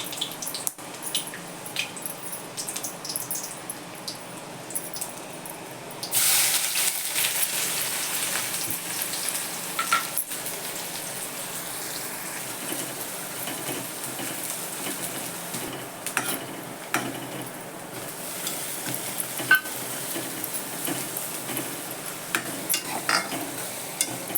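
Garlic cloves and a piece of cinnamon fry in a pan before onion and tomato are sautéed; a continuous crackling sizzle grows louder partway through, dotted with faint stirring scrapes and no voices.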